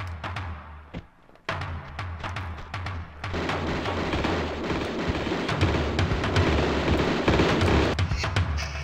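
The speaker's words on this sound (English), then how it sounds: "So much shooting." Repeated gunfire in the video game Tomb Raider 2 Gold, sharp shots and bursts rolling into continuous booming chaos, loud and sustained.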